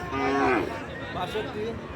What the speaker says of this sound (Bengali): এই সুন্দর একটা সাইবাল জাতের গরু